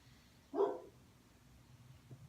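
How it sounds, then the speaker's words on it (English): A dog gives a single short bark at mid-distance, followed by quiet background. "This dog is barking."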